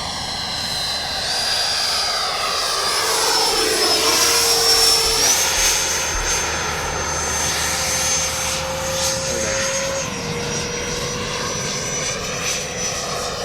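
A radio-controlled 90mm Eurofighter model jet makes a gear pass, its ducted-fan engine roaring loud and close with a high whine that rises and shifts in pitch as it sweeps by, with no talk.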